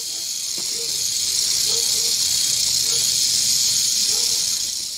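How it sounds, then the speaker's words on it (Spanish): A rattlesnake sounds its warning rattle with its tail, a continuous, even high-pitched buzzing hiss that holds steady for several seconds, with faint low tones underneath. "al mismo tiempo con su cola emiten un sonido de aviso"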